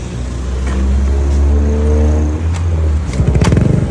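A motorcycle with a weak battery is kick-started; a loud, close engine rumble drones, then breaks into a rapid rhythmic putter at the end.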